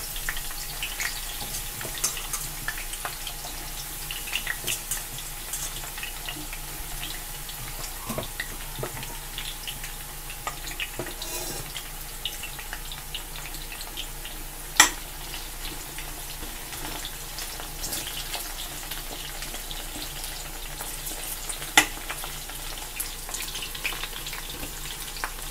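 Remaining eggplant pieces fry in hot oil over high heat, a steady close sizzle that continues throughout, with occasional sharp pops and light clicks.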